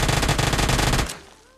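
Rapid automatic fire from an Uzi submachine gun in a video game, a loud dense burst of shots for about a second before it cuts off and a short tail fades out.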